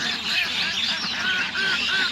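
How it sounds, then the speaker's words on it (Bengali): Domestic ducks at a village farm in Shibalay, Manikganj call in a noisy flock, steady overlapping honks and quacks filling the scene at close range with no talk. "আমাদের হাঁসের সবাই এখন রেডি প্রস্তুত আমাদের"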